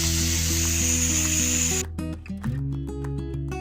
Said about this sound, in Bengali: যতক্ষণ না তেল ছাড়ে ততক্ষণ এটাকে একটু ভালো করে কষিয়ে নিতে হবে